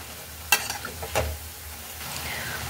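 Garlic bondas deep frying in hot oil give a steady, soft bubbling sizzle, with two sharper clatters from a slotted spoon stirring the pot near the start and middle, and no talking.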